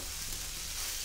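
Potato curry with mashed potato and yogurt frying in a pot over a homemade clay stove, giving a steady, close sizzling hiss that holds evenly throughout with no voices.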